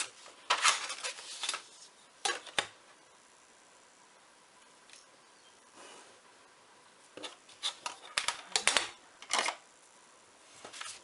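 Paper being cut for a handmade December daily envelope, with several short crisp snipping and rustling bursts in clusters at the start and again near the end, separated by a quiet pause.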